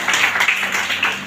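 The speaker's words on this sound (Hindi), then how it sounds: "इसमें तालियां दे सकते हैं आप" A college audience claps in a brief burst of applause at a welcome event for a member of parliament, a dense patter of hands filling a short moment.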